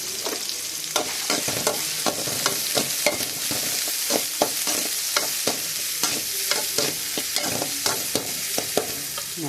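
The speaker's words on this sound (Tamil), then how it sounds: "நல்லா வதங்குறாங்க பாருங்கள், நல்லா வதங்கட்டும்." Onions sautéing in oil in a pan for a puri side dish: a continuous sizzle punctuated by frequent sharp clicks and scrapes of a spoon stirring, steady and close with no talking.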